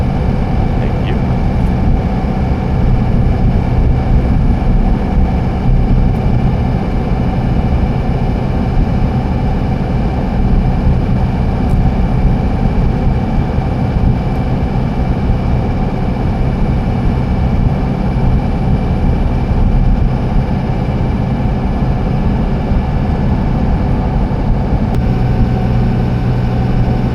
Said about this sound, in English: This truck has a failing right front wheel bearing, and you can hear it going around these corners.